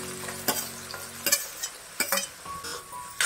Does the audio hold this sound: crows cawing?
no